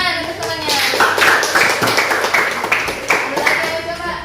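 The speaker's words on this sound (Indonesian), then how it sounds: "Tepuk tangan untuk temannya." A classroom claps for a classmate in an Islamic religious education lesson, a short burst of hand claps with a few distinct strikes, with children's voices mixed in.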